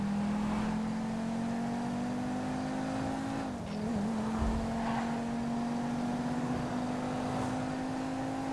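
A car drives in GTA V with a continuous engine drone that dips briefly in pitch midway, then climbs steadily again, with no speech.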